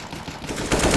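Rapid automatic rifle fire from an AK in a Counter-Strike: Global Offensive esports match, a close burst of sharp shots that swells louder toward the end.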